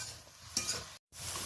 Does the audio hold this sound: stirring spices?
yes